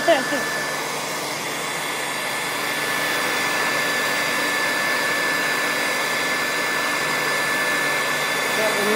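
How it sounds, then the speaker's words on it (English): A hair dryer on a farm, used while getting sheep ready for the sales, blows with a steady, loud, continuous whoosh that holds unbroken from start to finish. "this is Mum's hair dryer"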